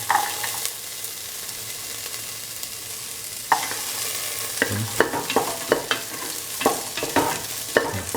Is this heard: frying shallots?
yes